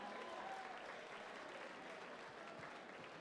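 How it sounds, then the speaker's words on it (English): A fight-night crowd gives a faint, distant round of applause for a fighter, a soft continuous wash of clapping with no distinct individual claps standing out. "another round of applause for Chris Costello"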